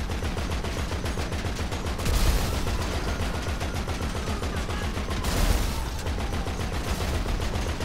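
Rapid gunfire in GTA 5 Online pounds away at cars, a dense, loud, continuous crackle of shots with two heavier blasts standing out as vehicles blow up.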